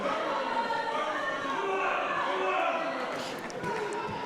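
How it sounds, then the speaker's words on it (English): A noisy crowd at an amateur boxing bout fills the hall with a steady, dense roar of overlapping voices and shouts, holding loud throughout with no single voice standing out. "Plenty of noise coming from the crowd."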